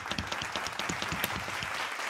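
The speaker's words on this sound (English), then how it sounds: "Now clap for Heath Runs 2." Podcast audience clapping, a steady dense patter of many hands lasting about two seconds at moderate loudness, with no talk over it.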